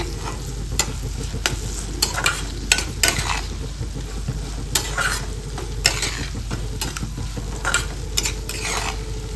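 A spoon scrapes and stirs chilli pickle with freshly ground spices in a frying pan, giving a soft continuous sizzle broken by a series of sharp clinks and scrapes.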